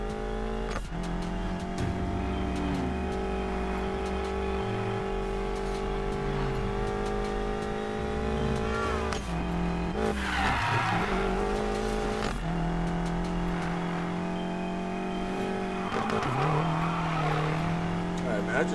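A BMW X6M driven off-road in Need for Speed Payback, with a steady engine drone holding strong low harmonics that shift as it revs, loud and continuous, broken by brief bursts of tire noise and skidding around the middle and near the end.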